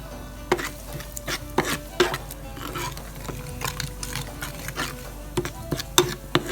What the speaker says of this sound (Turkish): Azıcık pembeleşinceye kadar kavuracaksınız.